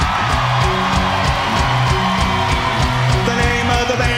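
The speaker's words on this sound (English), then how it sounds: "please, scream like a bunch of crazy sex banshees when I say" A concert crowd screams and cheers loudly at a rock band show, with yells and whoops rising over a rhythmic, pulsing musical backing throughout.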